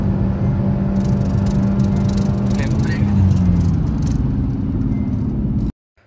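Two 4th-generation Honda City sedans drag racing side by side, their engines droning loud and steady with a mid-pitched whir and slight rattle for several seconds before cutting off abruptly.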